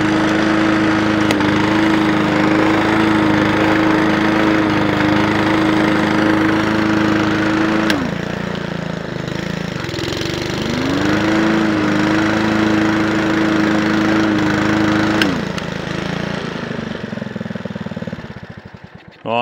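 A lawn mower engine idles steadily and loudly throughout, with a constant droning hum that dips briefly twice as the revs falter, then fades out at the end as the fuel is shut off.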